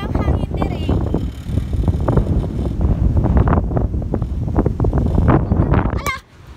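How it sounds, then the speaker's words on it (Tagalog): Strong wind at a seaside spot buffets the microphone in loud, rumbling gusts that roar continuously, with a voice talking underneath, before dropping off sharply near the end. "Piting kusog ang hangin diri."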